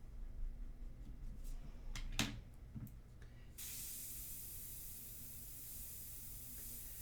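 An airbrush spraying India ink for a portrait gives short hissing bursts and then a steady, close, continuous spray.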